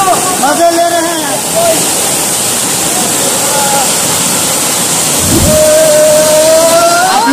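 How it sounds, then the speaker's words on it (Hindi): The Namaste waterfall near Dharan, Nepal, roaring in a loud, continuous wash of falling water up close, with people's voices and whoops audible over it. "दोस्तों ये देख रहे हैं किस तरीके से पानी गिर रहा है और लोग एंजॉय कर रहे हैं"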